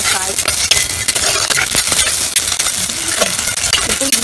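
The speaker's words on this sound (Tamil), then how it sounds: "இப்போ இது நல்லா கொஞ்சம் வதங்க வரைக்கும் நம்ம கொஞ்ச நேரம் வதக்கிட்டே இருக்கணும்." Onions, tomatoes, brinjal, raw banana, drumstick and other vegetables sauté in a pan for a village-style dried fish curry, with continuous sizzling and frequent metal spoon clinks and scrapes and no talk.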